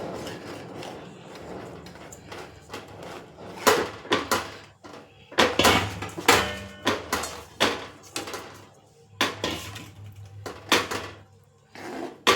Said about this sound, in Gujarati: હવે આપણે જે માંડવીનો ભૂકો છે ને એ આપણી ચાહણીમાં એડ કરતો જવાનો અને આ રીતનું એમ મિક્સ કરતો જવાનું